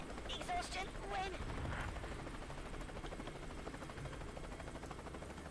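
Helicopter in a video game, a steady rapid rotor chop heard at moderate distance under gunfire bursts and game voices.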